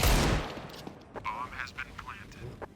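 A submachine gun in a Counter-Strike 2 match fires a loud, dense burst at the start, followed by quieter clicks and in-game effects.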